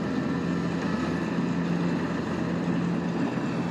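A combine harvester cutting rice in a field gives off a steady, droning engine rumble with a low mechanical hum. It sounds continuous and fairly close, with no talk over it.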